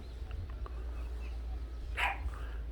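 A pet dog at a house with a garden barks excitedly; one faint, brief bark sounds from a distance over a constant low background rumble.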